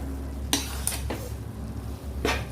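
Wheat flour is stirred in ghee for panjeri, with a soft steady frying hiss and a few quick spoon scrapes against the pan.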